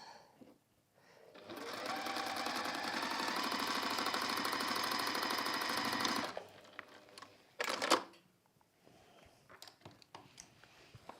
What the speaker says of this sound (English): Just sewing up that turning through gap.